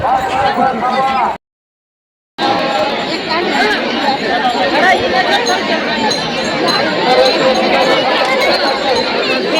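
Crowd of pilgrims on an Ashadhi Ekadashi wari procession, close loud chatter of many voices with occasional clinks, interrupted by a short silent break near the start.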